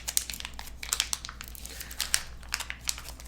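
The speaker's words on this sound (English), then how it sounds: "Now I'll go ahead and crack the booster pack" A Game Crafter booster pack's plastic wrapper is crinkled and torn open close up, with quick, irregular crackling bursts throughout.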